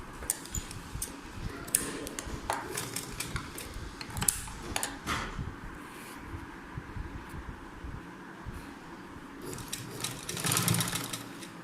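A sewing machine stitches fabric in a beginner's stitching class, a quiet, fast rhythmic ticking and clattering that runs in short bursts with brief pauses.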